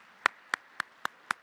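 A handful of slow, evenly spaced claps at an international mathematics congress opening ceremony after an award winner's speech, five sharp hand strikes about a quarter second apart, close and moderately loud with no talk.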